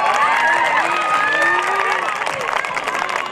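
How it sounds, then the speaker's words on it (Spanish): A pageant crowd applauds and cheers for the jury at a Señorita Juventud contest in Tuxcueca, Jalisco. The applause is dense and steady throughout, with whistles and shouts rising above it. "un fuerte aplauso para ellos"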